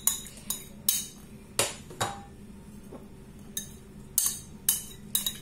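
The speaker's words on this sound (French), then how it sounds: "On va commencer par mélanger notre salade." A spring roll salad being mixed in a bowl, with sparse, light clinks and taps of utensils against the dish at an irregular pace, close by and fairly quiet.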